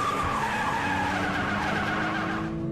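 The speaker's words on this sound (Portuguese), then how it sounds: "E aqui está o carro de corrida branco." Cartoon white race car skidding, a steady loud tyre screech over engine noise that holds for a couple of seconds, then tails off slightly.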